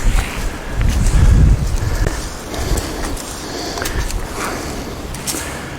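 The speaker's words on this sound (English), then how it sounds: "Here comes the wind again." Wind blows hard outdoors in woods with fallen trees, a steady loud rush buffeting the microphone, with faint thumps underneath.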